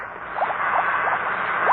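Radio-drama effect of a bubbling brown liquid throwing off a shower of multicolored sparks, a dense continuous fizzing wash with small repeated pops and crackles scattered through it, steady and fairly loud with no voices.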